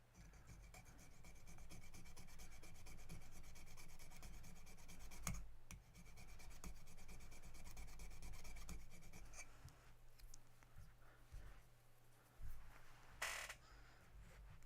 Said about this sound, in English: They're plastic, but they're really not liking the file.